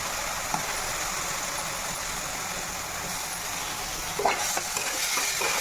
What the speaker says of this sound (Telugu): పచ్చి స్మెల్ పోయే వరకు ఈ ఆయిల్లో ఇట్లా వేపుకోవాలి